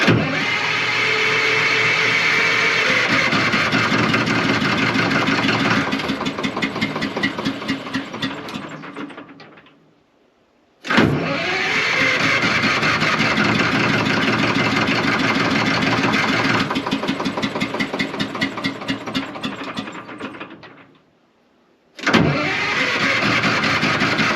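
A LeTourneau Westinghouse scraper (Tournapull) with a Detroit 4-71 diesel, unused for years, runs loud and steady at close range, cuts out twice after about ten seconds and roars back to life each time; no talking.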